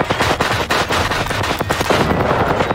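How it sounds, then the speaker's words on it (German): Rocket fire in the video game Generation Zero fills the air with a dense, continuous barrage of rapid blasts and crackling impacts. It stays loud and unbroken throughout, with no talk over it. "Ich schieße hier wieder mit Raketen jetzt noch raus, glaube ich."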